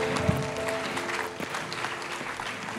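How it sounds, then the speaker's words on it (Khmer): A crowd claps in welcome at a church healing seminar, producing a dense, steady wash of applause that lasts throughout, with some voices or tones underneath. "ខ្ញុំសូមលោកអ្នកបងប្អូនអរគ្នាបានទះដៃហើយស្វាគមន៍លោកគ្រូផេសតាន"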